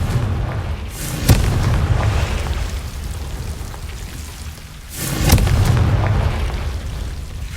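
Two booming Confringo spell blasts from Hogwarts Legacy on PS5 sound about four seconds apart, each a sharp impact swelling into a rumbling roar over a constant noisy game ambience.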